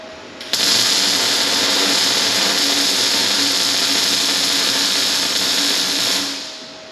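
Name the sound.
wire wheel grinding metal edge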